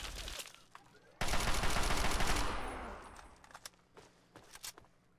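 Assault rifle fire in Fallout 3: a loud, close burst of rapid automatic shots roars for over a second, then fades into a tail followed by scattered clicks and game sounds.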